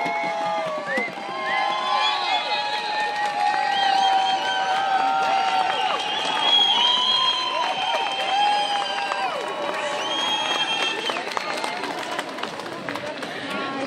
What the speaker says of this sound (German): Einen herzlichen Applaus für die Friedenstrommler.